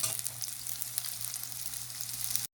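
Onions frying in oil in a pan as they brown, a steady close-up sizzle with a constant low hum underneath, continuous and alone without any voices.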